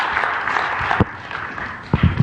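Brief audience applause at a group event, a short burst of clapping with a few sharper claps standing out near the end.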